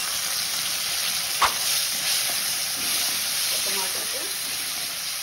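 Chopped tomato hitting a hot pan of spices already roasted for a vegetable dish, giving a steady close hiss and sizzle with a brief clatter early on.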